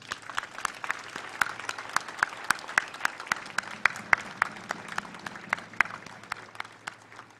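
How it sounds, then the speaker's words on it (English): A graduation ceremony audience at the Technical University of Kenya applauds steadily, with dense clapping and sharp individual claps standing out throughout, moderately loud and continuous. "So if we don't applaud ourselves, no one else will do it."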